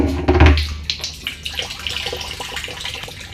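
Water flowing into a pilot boat's dry dock, a steady rushing and splashing wash with a louder burst near the start, heard close and continuous without talk.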